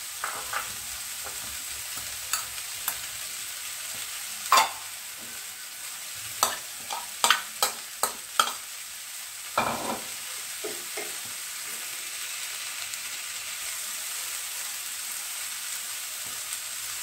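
Corn masala in a pan, stirred with coriander leaves, giving a low frying sizzle broken by several sharp scraping and tapping strokes of a spoon against the pan, with no talk.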